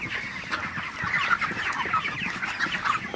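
Broiler chickens on a farm cluck in a busy, overlapping chorus of short calls, close and constant, with no voices.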